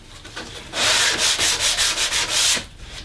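Fine 240-grit sandpaper worked by hand along the edge of a raised wooden panel, giving a close, loud run of rhythmic back-and-forth strokes, about eight quick passes, with quiet before and after.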